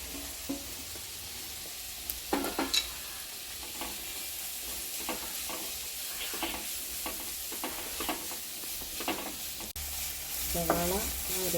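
Sliced onion and fennel seeds fry in a pan with a steady, fairly quiet sizzle, broken by scattered scraping strokes of a spatula and a few sharper clicks.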